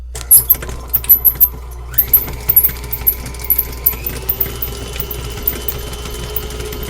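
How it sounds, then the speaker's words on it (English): An electric mixer beats cream cheese for a cheesecake filling, its steady motor hum stepping up in pitch twice as the speed increases, with clattering beaters knocking against the bowl throughout. "I'm going to start mixing my cream cheese, and I'm going to mix this until it's smooth."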